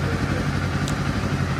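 Kawasaki Z500 2024 motorcycle idling after starting in neutral, a steady close mid-pitched engine patter with a brief metallic tick, a voice briefly present.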